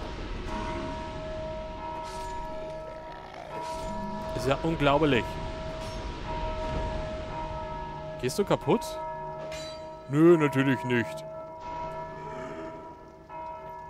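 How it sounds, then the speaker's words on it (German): Bells ringing in a tower in Dark Souls 2, sustained tones with clanging strikes around 4–5, 8.5 and 10–11 seconds, sounding under a voice speaking German. "Kann man die Glocken kaputt machen oder so?"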